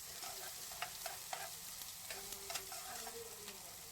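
Egg thokku with onion being sautéed in a pan, a steady soft sizzle under repeated scraping and stirring strokes, close and fairly quiet with no voices.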